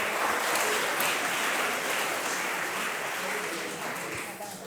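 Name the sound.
audience applause at an award ceremony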